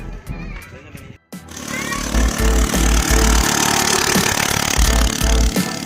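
A homemade mini motorcycle engine starts up and runs loudly with a rough, rattling idle, steady for several seconds after a brief pause.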